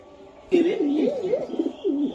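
A racing pigeon coos in a soft, warbling, rolling call, repeated a few times up close after a brief quiet start.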